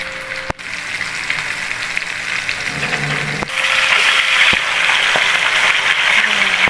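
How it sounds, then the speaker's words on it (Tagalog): Flour-coated milkfish (bangus) fries in hot cooking oil, giving a loud, continuous close-up sizzle with a few sharp pops and crackles throughout. "Yan ang problema natin pag nagpiprito tayo ng bangus,"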